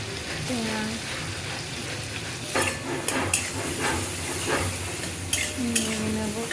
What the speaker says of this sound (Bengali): হালকা একটু ভাজা ভাজা হয়ে গেছে।